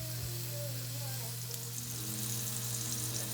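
A portobello mushroom steak frying in a pan, giving a steady, dense sizzle that holds at an even level throughout, with a faint low hum underneath.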